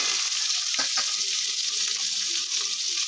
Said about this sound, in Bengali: আর সাদা তেলটা গরম হয়ে গেলে দিয়ে দেব কুচিয়ে রাখা ক্যাপসিকাম